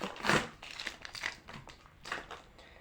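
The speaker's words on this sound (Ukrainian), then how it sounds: "ну що ти не розрізаєшся? Тут треба було другі ножиці брати" Plastic packaging on a parcel of books being cut open with scissors, giving a few close crinkling, crunching snips and rustles in an uneven rhythm.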